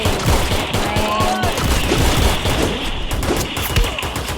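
Free Fire video game gunfire rattles in dense, continuous bursts, loud and close, layered under other game sounds.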